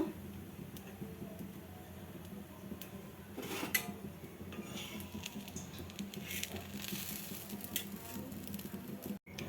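Soft sizzling of an aloo paratha frying in a pan, quiet and steady, with occasional light clinks of utensils against cookware.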